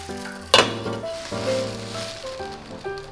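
Butter and soy sauce hitting a hot pan of seafood, lobster and clams, with a sudden loud burst of sizzling that settles into a steady, close crackle with no talking.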